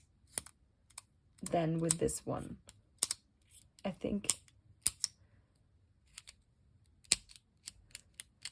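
Sharp, sparse clicks repeat at irregular intervals, close and crisp, while a person speaks briefly in between.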